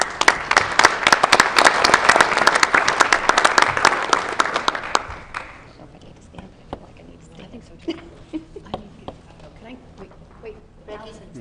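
An audience at a school board meeting claps for students receiving medals, a loud burst of dense applause that fades after about five seconds into sparse claps, shuffling and murmured voices.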